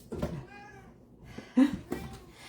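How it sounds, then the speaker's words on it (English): A cat stands at the door and lets out a couple of short, fairly soft meows, split by brief pauses, with light room noise in between and no clear talk. "I'm gonna go let her cat in."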